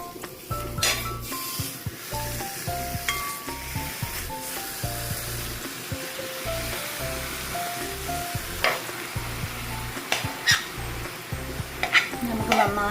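Chicken pieces tossed into masala frying in a pan with tomato set off a continuous sizzle, punctuated by frequent spoon scrapes and clanks against the pan over a low steady hum.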